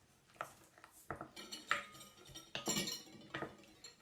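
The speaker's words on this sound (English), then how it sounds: "We'll give that a little stir." A utensil stirs chopped green onion in a dish, producing a string of irregular clinks, scrapes and taps against the bowl, fairly close and quiet, with no talking.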